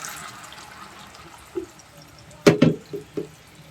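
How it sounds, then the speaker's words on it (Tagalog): Water is poured into a cooking pot of browned pork for menudo, heard as a few short splashing bursts after a quiet kitchen lull, with no talk. "Lagyan na natin ng tubig."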